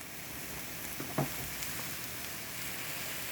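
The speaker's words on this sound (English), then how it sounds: "look at all the sizzle and popping." Food frying in a home kitchen pan, giving a steady broadband sizzle with a few faint pops, one slightly louder crackle near the middle, continuous and moderately quiet throughout.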